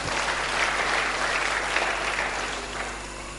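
A church congregation breaks into enthusiastic applause during a sermon: continuous, dense clapping from many hands in a large room, steady and full for the whole stretch over a low constant hum.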